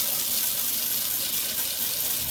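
A garden hose sprays a steady, loud hissing rush of water while rinsing a cleaning product off a surface, constant and close throughout.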